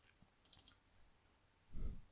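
Mouse clicks on an OK button in CODESYS software: a quick double tick of clicks near the start, then a soft thump toward the end, all faint and close against quiet room noise.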